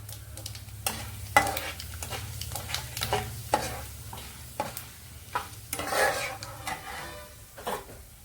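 Mustard seeds and cumin sizzle in hot oil for a Telugu bottle gourd milk curry, with a steady soft crackle and scattered sharp pops and utensil clinks up close.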